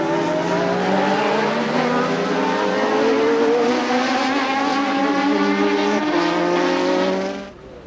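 A racing car at an Australian racetrack roars past loud and close, its engine note sweeping upward over several seconds, then cuts off suddenly near the end.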